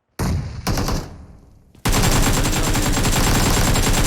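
Gunfire in the mobile game PUBG Mobile: a few sharp loud shots, a short decaying gap, then a sustained dense burst of rapid automatic fire until the end, with no talk.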